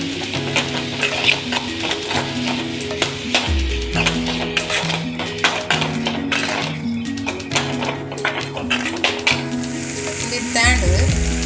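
Tomatoes and onions frying with rock salt in a pan give a loud, steady sizzle, with spatula stirs and taps scattered throughout and a constant background hum.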